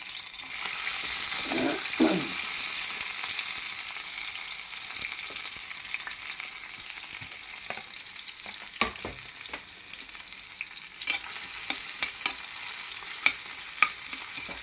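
Onions sizzle steadily while frying in a pan, with a continuous hiss and scattered sharp scrapes and taps from stirring, close and clear throughout.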